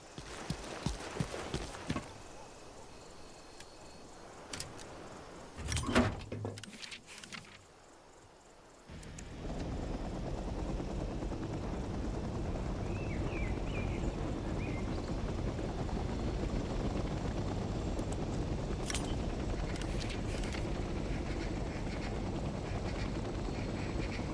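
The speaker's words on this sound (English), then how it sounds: "Let's start by getting in the pilot seat and turning the engine on." From the pilot seat of a helicopter in Hell Let Loose: Vietnam, a few faint clicks and knocks give way to the engine starting up and settling into a steady, continuous drone that fills the rest of the stretch.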